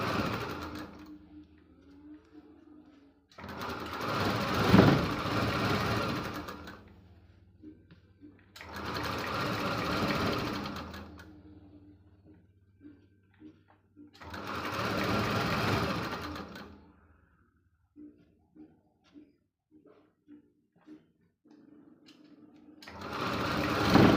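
A sewing machine stitches a blouse hem in four separate bursts of fast, whirring, rattling stitching, each lasting a few seconds, with quiet handling pauses between them.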